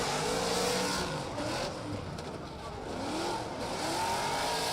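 A drift car at a qualification round in Oman comes back on the throttle. The engine revs rise and fall under a dense, steady roar, with a faint tyre squeal and crowd or commentary noise mixed in.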